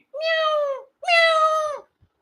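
Two clear, drawn-out meows, close and alone, voiced by a person imitating a cat.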